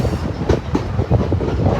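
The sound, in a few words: Niles Canyon Railway train traveling on the tracks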